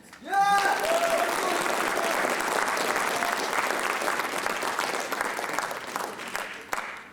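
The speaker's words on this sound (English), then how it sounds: "Please give a round of applause to the marvelous Mr." A school writers expo audience breaks into applause for a guest speaker, starting abruptly and holding as a dense, even roar of clapping that fades slightly near the end, with a brief voice at the start.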